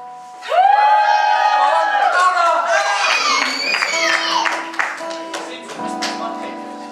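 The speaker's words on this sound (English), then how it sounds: "Can we get a cheer for our IPS?" At a Breckland charity gig, an audience bursts into cheers, whistles and clapping, a loud crowd roar that rises suddenly and then gradually thins out.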